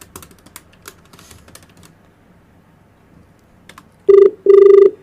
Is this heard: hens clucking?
no